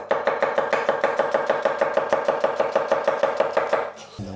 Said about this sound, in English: I'm just going to slice this onion quite quickly.